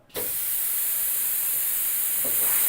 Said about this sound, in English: this one with a higher flow rate of steam, and you can also go here with a different flow rate.